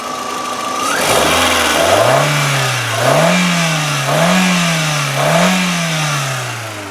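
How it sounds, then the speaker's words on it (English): A 1999 Volkswagen Jetta GLS sedan engine idles, then revs up and down in four or five repeated swells, close and loud, with a slight knocking texture under the roar. "And now I'm going to rev it up for you so you can hear how she sounds."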